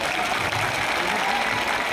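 Crowd at a public evening event in Bhagalpur, Bihar, clapping for a folk singer, a dense continuous wash of applause with some voices mixed in.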